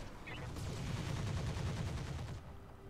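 Weapons fire at targets in the Roguepoint video game, a dense, continuous barrage of rapid shots that stops abruptly near the end.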